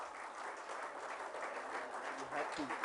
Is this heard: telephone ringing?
no